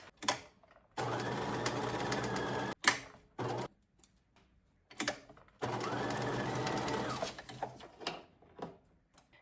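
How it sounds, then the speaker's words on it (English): A sewing machine runs stay stitching along curtain fabric in two long steady bursts of rapid needle chatter, separated by short pauses with clicks and handling noises. "Let's do some stay stitching, and that point's very important that we get that point sorted."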